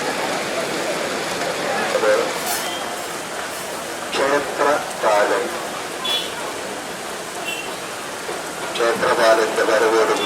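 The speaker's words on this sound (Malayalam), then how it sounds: "മഴ വീണ്ടും കണക്കിടുന്നു." Rain falling at a theyyam festival, a continuous wash of rainfall with faint bursts of background sound rising and fading over it.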